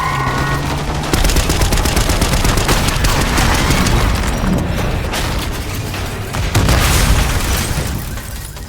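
Heavy gunfire in Call of Duty: Black Ops 6, a loud, dense stream of rapid shots and booming impacts that runs almost without pause, close and harsh, building to a louder burst near the end.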